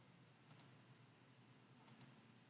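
Two quick double clicks of a computer mouse in PCB design software, crisp and close, separated by about a second and a half of quiet room hum.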